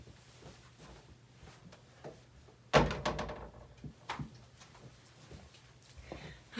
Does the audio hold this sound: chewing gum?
no